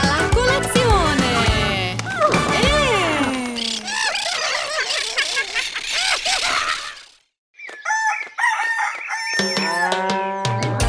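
A painted farmyard rooster crows in an animated children's farm song, the loud, drawn-out cock-a-doodle-doo calls woven through the music and clucking, with a short silent gap before the song resumes.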